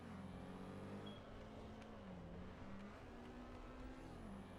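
A Porsche 917K race car screaming around the Nordschleife in a racing video game, its engine holding a steady loud drone that rises and dips with gear changes throughout, with no talking.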